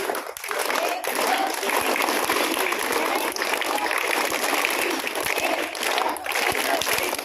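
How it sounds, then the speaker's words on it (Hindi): Children clap together in welcome at a school, as taught by their teacher. The clapping is a dense, steady, loud patter that runs throughout with a few stronger accents. "कैसे स्वागत ताली मारा जाता है वो बताया जा रहा है।"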